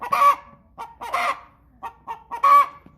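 An American Bresse hen squawks and clucks loudly in several sharp, repeated bursts, close up and with no talking.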